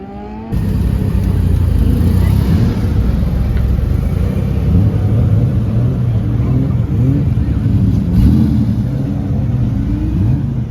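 A Mazda RX-7 rotary-engined car rolls into a car meet, its loud, steady engine rumble close by and holding for several seconds with a slight swell in revs near the end.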